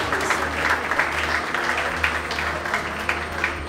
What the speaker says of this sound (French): Est-ce qu'on peut applaudir encore une fois cette femme?